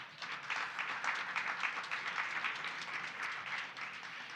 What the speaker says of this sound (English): So please give the Wheeling Chamber a round of applause.